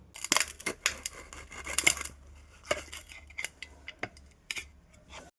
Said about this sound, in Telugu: 2 నిమ్మకాయలు కట్ చేసుకుందాం